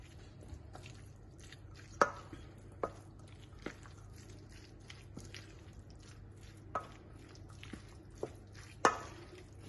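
Cooked pasta being mixed into sauce for a tuna pasta bake, giving soft wet squishing and occasional sharp clicks of a utensil against the bowl, fairly quiet and close, with no talking.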